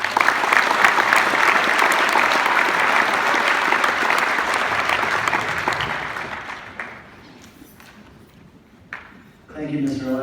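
An audience at a hockey team send-off assembly claps loudly and steadily for several seconds, then fades out before a speaker begins.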